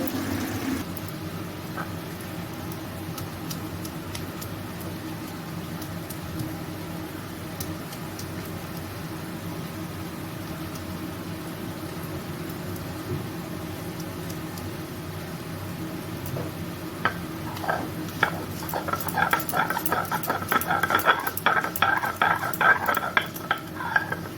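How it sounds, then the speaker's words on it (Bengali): Ginger being ground on a stone grinding slab (sil-pata) while a pan simmers quietly nearby. Rhythmic, gritty scraping strokes start partway through and grow louder and denser toward the end. "এই আদাটা আমি বেটে নেব"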